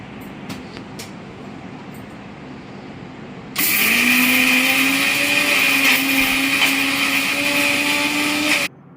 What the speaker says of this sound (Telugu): ఈలోపు మిక్సీ జార్లో ఇవన్నీ కూడా మిక్సీ పట్టేసుకుందామండి